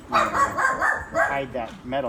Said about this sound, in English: Please excuse the background noise. We got some puppies barking,